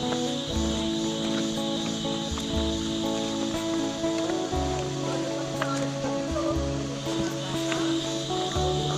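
Steady rain hisses over a mountain trail on Gunung Halau Halau in South Kalimantan, a dense, even wash of falling water. Low, rhythmic thumps run faintly underneath throughout.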